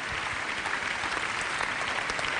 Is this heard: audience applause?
yes